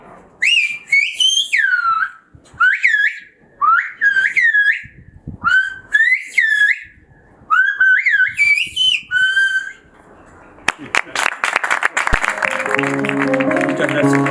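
A Silbo whistled-language welcome at a Macaronesian conversation gathering: a series of loud, close, sliding whistled phrases with short pauses, followed by a burst of audience applause.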